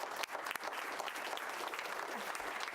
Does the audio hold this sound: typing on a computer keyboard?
no